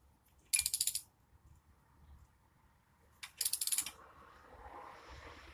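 Ratchet wrench clicking on a 1999 Ford F-150, two short quick bursts of rapid metallic ticks a few seconds apart, close and fairly quiet against a faint background.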